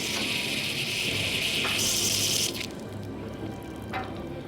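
Crude oil gushing straight out of a Yawa Formation well from 8,700 feet, a steady broadband rushing hiss that swells louder midway then eases to a softer continuous flow, with a brief splash near the end.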